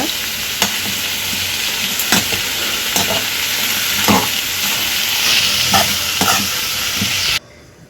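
Black-eyed pea curry being stirred in a hot pan: a loud, close, continuous sizzle with repeated scraping strokes of the spoon, ending abruptly near the end, with no talking.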